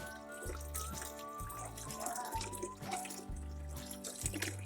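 Water poured into a coffee pot in a home kitchen, a continuous splashing pour with a low rumbling tone running beneath it, and no voices.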